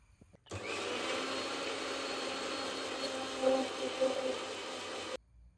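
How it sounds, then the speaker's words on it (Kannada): A blender grinds mango with ice cream, starting abruptly and running as a loud, steady whirring roar for about five seconds before cutting off sharply. "ಈಗ ಇದನ್ನ ಗ್ರೈಂಡ್ ಮಾಡ್ಕೋಬಪ್ಪ."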